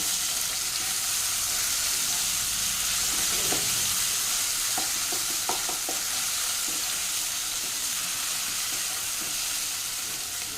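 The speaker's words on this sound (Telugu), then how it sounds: "ఇప్పుడు అల్లం వెల్లుల్లి పేస్ట్ వేస్తాను మిక్స్ చేద్దాం" Sliced onions with ginger garlic paste frying and being stirred in a pan for tomato paneer pulao: constant loud sizzling, broken by several scraping and clinking strokes of the spoon in the middle stretch.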